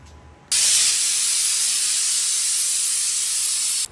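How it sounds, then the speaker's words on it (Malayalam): A kitchen pressure cooker making rice lets out a sudden loud, continuous hiss of escaping steam that starts abruptly and holds steady for over three seconds before cutting off. "കുക്കർ 2 വിസിലായിട്ടുള്ളൂ"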